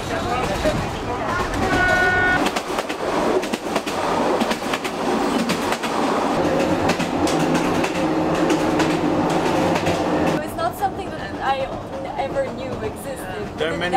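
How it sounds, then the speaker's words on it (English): Loud, steady rumble and rattle inside a crowded moving narrow gauge train in Bulgaria, with rhythmic clatter and screeching metal, voices talking underneath throughout. "We are in the train, it's quite noisy, and it's full of people actually."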